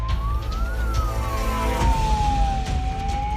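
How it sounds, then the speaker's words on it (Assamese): An ambulance stuck in a traffic jam sounds its wailing siren, a single rising and falling tone that stays loud over the rumble of the surrounding road traffic, with no one speaking. "মাজবাটত আবদ্ধ হৈ ৰল এম্বুলেন্স।"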